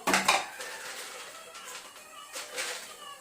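Peanuts tipped into oil in a pan on an unlit stove for upma, a burst of hard clinks and rattles followed by quieter scattered ticks and a second small clatter, close by with no talk.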